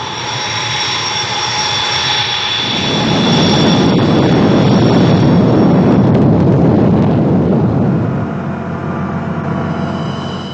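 Military jet engines roar loud and close with a sustained rushing thrust that swells in the middle, linked to Indian Air Force aircraft in the 1999 Kargil war.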